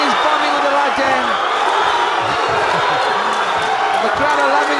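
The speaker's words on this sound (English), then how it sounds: "The crowd are loving it." A boxing arena crowd roars and cheers continuously during a fight, loud and dense, with someone talking excitedly over it.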